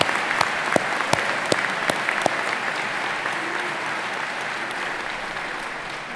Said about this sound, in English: let's take a moment to give all of them a round of applause